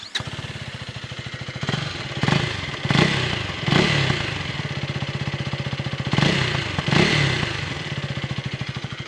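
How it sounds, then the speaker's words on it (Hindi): A 2024 KTM Duke 250 with a liquid-cooled four-valve single-cylinder engine and underbelly exhaust, idling with a thumpy pulse and blipped through several quick revs, loud and close, no talk. "अंडरबेली एग्जॉस्ट देखने को मिलते हैं, जिसके साउंड काफ़ी थम्पी है।"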